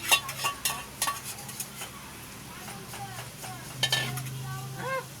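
Chicken and fried potatoes with butter are stirred in a pan, a soft sizzle under repeated scraping and clinking of a spatula against the metal, with occasional faint voices nearby.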